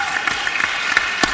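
Audience applause for a panel at an event on pathways to graduation, college and career for students of color, steady clapping from a crowd throughout a brief stretch.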